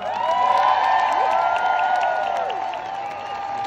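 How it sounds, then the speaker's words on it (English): A large outdoor stadium crowd at a concert at Vale Park cheers and whoops for the band, a loud sustained roar with high shouts and whistles that slowly fades. "Give a warm round of applause for my band."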